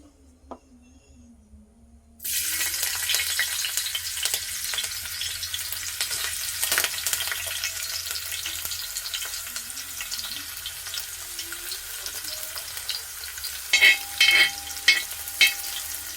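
Ginger and garlic hit hot oil in an uruli after a couple of quiet seconds, bursting into a loud, sustained sizzle that crackles steadily, then a few metallic clinks of stirring near the end.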